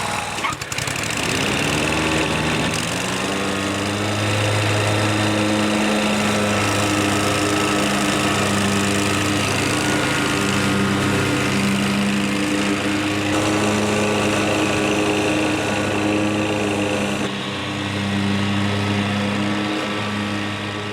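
A John Deere 727A zero-turn mower cuts through thick, long grass, its engine starting up then running loud and steady with a constant droning hum and blade whir, dipping briefly near the end before resuming.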